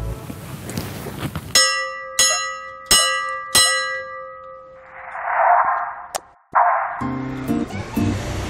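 A museum's old warning bell rings out in four loud, evenly spaced clangs, each leaving a long sustained ring, followed by a burst of noise and further clatter.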